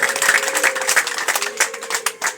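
Mourners at a funeral service clap together, loud and close, with distinct rhythmic hand claps and a faint sustained tone underneath, no speech.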